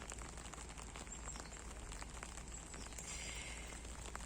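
Steady rain hisses continuously, with scattered tiny drop ticks on a surface throughout. No voices.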